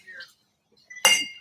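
Wedding guests clink glasses during a toast, a single bright ringing chink that rings out sharply and fades, following a brief murmur of voices.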